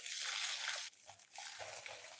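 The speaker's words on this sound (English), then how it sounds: "I want to add more water to this thing because the water did not cover it." Boiling water poured into a cooking pot of spaghetti being made into jollof, a quiet continuous splashing gush that breaks off briefly, then resumes as softer sloshing and trickling, with no talk over it.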